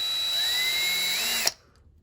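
A power drill whines steadily at high speed while drilling into a Dragon Stars action figure, then cuts off abruptly, leaving near silence.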